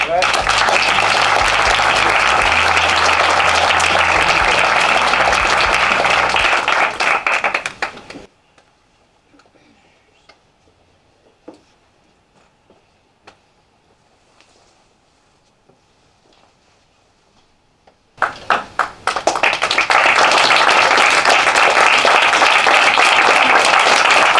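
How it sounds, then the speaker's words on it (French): Theatre audience applauding performers after a comedy show, loud sustained clapping and cheering that cuts off abruptly into near silence, then surges back just as loud about ten seconds later. "On peut les applaudir"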